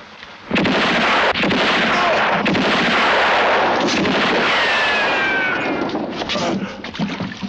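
Gunfire in a western film scene: a loud, dense barrage of shots and echoing blasts that starts abruptly and runs almost continuously, thinning into scattered pops at the end.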